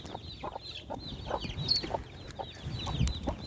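Several chickens cluck steadily in a farmyard, a busy flock of small birds making repeated close clucks and chirps, with rustling noise and a brief louder squawk partway through.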